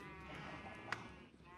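A Minecraft sheep bleats softly on a survival multiplayer server, a faint wavering cry set against quiet game ambience with a brief sharp click partway through.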